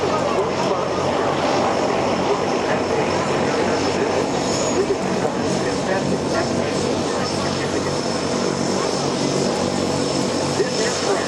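A MiG-17 jet flying a demonstration at the Air Power Over Hampton Roads airshow, a continuous loud broadband engine roar that holds steady throughout, with no distinct voices audible over it.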